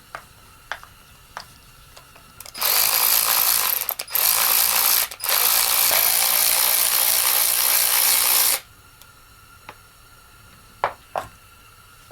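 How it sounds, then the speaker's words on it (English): A ratchet loosens the bar nuts on a Holtzfforma G372XP chainsaw: a few sharp isolated clicks, then about six seconds of loud, continuous, rapid ratcheting broken by two brief pauses, followed by several more scattered clicks and handling knocks. "let's loosen up these bar nuts just a little bit to allow us to get tension off"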